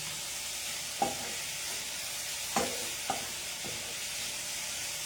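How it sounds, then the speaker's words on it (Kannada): Tomato, onion and garlic fry in a pan over a medium flame, a steady soft sizzle running throughout, broken by a few sharp clinks and scrapes of stirring. "ಟೊಮ್ಯಾಟೊ ಆನಿಯನ್ ಗಾರ್ಲಿಕ್ ಫ್ರೈ ಆಗ್ತದೆ"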